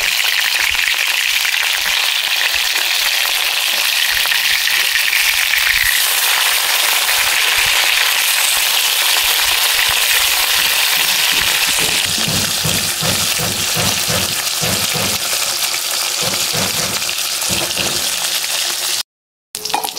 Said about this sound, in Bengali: এবার উল্টে আর এক পাশটি ভেজে নেব।